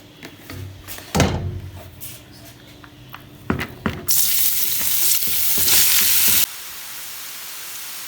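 Grated mooli (radish) cooking in hot oil in a preheated kadai: close stirring scrapes and clatters, then a loud, steady sizzle for a couple of seconds that drops to a quieter hiss, with no talking.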